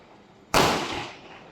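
A single firecracker bursts outside near a balcony with one sharp, loud bang followed by a decaying echoing tail.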